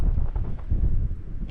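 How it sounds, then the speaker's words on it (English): Breezy wind buffeting a microphone down in a valley during a wild camp on Dartmoor, low gusty rumble fluctuating in strength, close and moderately loud, with no talking. "But even down here it's still breezy, but it is just breezy."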